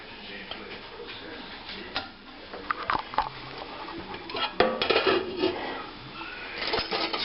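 Drained hamburger meat is stirred into thickened brown gravy in a pot, making irregular close clinks, taps and wet scraping over a low background hiss, with occasional sharper knocks of the utensil.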